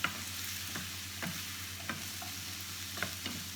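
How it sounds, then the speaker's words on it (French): Butternut squash, with onion added, fries in a pan for an autumn veggie curry: a steady soft sizzle broken by a few sharp clicks and scrapes of stirring, with no talking. "On va mettre les butternuts parce que c'est elles qui vont cuire le plus longtemps."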